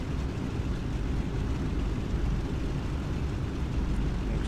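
Boeing 377 propeller airliner engines in the Prepar3D flight simulator, a steady, dense low roar that holds level throughout as thrust builds while lining up for the runway.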